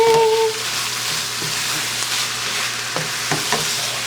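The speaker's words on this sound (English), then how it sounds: "Let's go ahead and give this a mix" Taco filling sizzling in a pan as it is mixed, a loud, steady frying hiss broken by a few scraping stirs of the spoon, close up, with a brief tone at the start.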